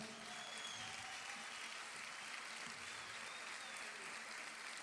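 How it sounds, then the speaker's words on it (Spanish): A theater audience at a salsa concert in Cali, Colombia applauds, a continuous, even roar of clapping from a large crowd, heard from a distance and without letup. "Un aplauso para mi querida esposa."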